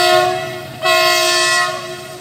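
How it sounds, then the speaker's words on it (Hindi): A loud diesel locomotive horn blares close by at night, a sustained multi-tone blast that briefly cuts and resumes, ringing strongly. "इसका हॉर्न बहुत खतरनाक है।"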